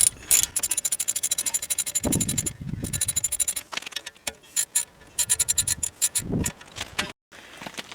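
A ratchet wrench snugging the brake caliper bolts on a third-generation Dodge Ram, rapid loud clicking bursts close up, broken by short pauses and a few knocks between strokes.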